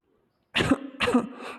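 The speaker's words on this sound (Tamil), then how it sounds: "இந்த குளிர்காலத்தில் இருமல் அதிகமாகிருச்சு" Two harsh coughs in quick succession from a person with a winter cough, close and clear, followed by a brief rasping breath, in otherwise quiet surroundings.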